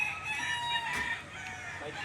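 Chickens at a farm where hens and a jumbo stag are offered for sale, a brief crow heard at moderate distance over background chatter and clucking.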